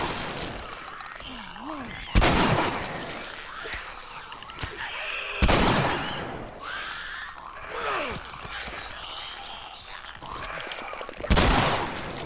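Shotgun blasts in The Last of Us, three loud, sharp shots spaced several seconds apart, with game voices talking in between.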